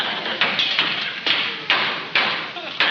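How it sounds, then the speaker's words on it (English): A hammer strikes about half a dozen times at a steady, unhurried pace, each blow a sharp, bright impact with a short ringing decay, fairly close. "Hold Bessie's head so this hammer don't spook her"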